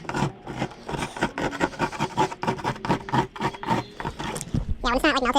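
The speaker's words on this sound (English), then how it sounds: "first thing we're gonna do is just get all this old wax off" Old wax being scraped off a surfboard on the North Shore, a steady run of quick rasping strokes that carries on for several seconds, with a short burst of voice near the end.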